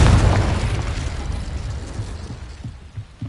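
A Confringo blasting spell explodes in Hogwarts Legacy, a loud booming burst up front that rolls off into a decaying rumble with a few small crackles near the end.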